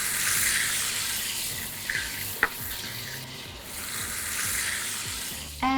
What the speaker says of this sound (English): now add in some chicken stock.